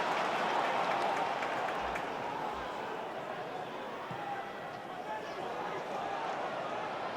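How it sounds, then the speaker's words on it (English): A football stadium crowd at a Sunderland AFC versus Bristol City match gives a broad, steady wash of applause and crowd noise. A commentator's voice runs over it. "comes out with it, gets a round of applause"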